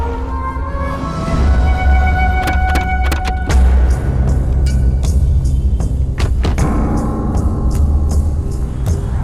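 Car engine idling with a low steady rumble, joined by clicks and clunks that sound like a door or power window, close and loud, with no talking.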